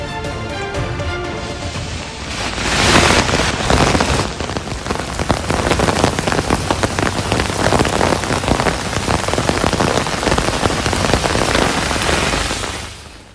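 Heavy rain pours down in Krishnagiri district, a dense, loud hiss of drops hitting surfaces that swells after a couple of seconds and holds steady throughout, with no voices.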